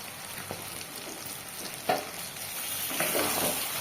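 Ginger and garlic masala fries in a pan and is stirred, giving a soft, continuous sizzle with a few scraping strokes and one sharper clink near the middle.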